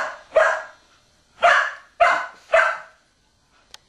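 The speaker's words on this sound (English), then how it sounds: "That's a dog." A dog barks four times, loud and close, the first bark alone and then three in quick succession about half a second apart, followed by a brief sharp click.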